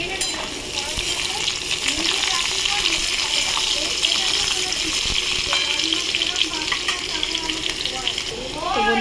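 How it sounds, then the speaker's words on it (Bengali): Taro pieces, with potatoes added, fry in hot oil in a pan, giving a loud, continuous sizzle with occasional stirring scrapes and a brief voice over the cooking. "কচুগুলো ভালো করে ভেজে নিয়ে ফিরছি"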